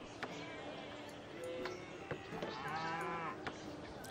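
Cattle lowing in the strategy game Civilization 5 Gods and Kings, a drawn-out moo rising over a steady bed of game ambience and music at moderate distance.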